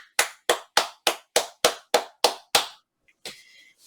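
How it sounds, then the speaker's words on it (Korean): A single pair of hands claps about nine times in a steady, even rhythm during a WinUI3 calculator programming lecture. The claps are crisp and close, and a faint short sound follows them. "우리 다 같이 박수 한번 치겠습니다"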